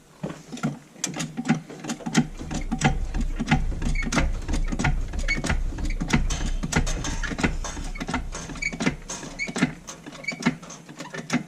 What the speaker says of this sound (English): I'm about to jack that up